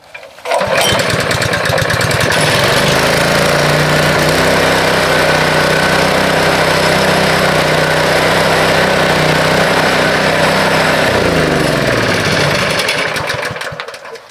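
A Honda GX160 small gasoline engine starts up and runs loud and steady nearby with a buzzing drone, then winds down and stops.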